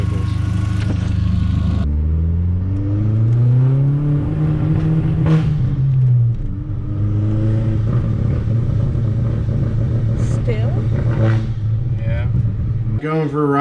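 A 1.8T engine in a MK4 Volkswagen Jetta hums and rises in pitch as it accelerates and shifts, heard from inside the car with a steady road rumble and some talk.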